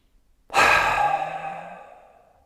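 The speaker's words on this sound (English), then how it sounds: "We do 7 breaths together and you follow my rhythm." Group pranayama breathing during a yoga workshop: a single long, loud exhalation starts sharply, then fades slowly over about two seconds, breathy and airy with no talk.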